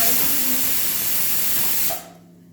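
Tomatoes added to softened onions in a hot pan for paneer bhurji give a loud, steady sizzling hiss that fills the clip, then drops off sharply near the end, leaving only a faint background.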